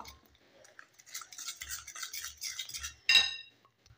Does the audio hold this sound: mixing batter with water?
yes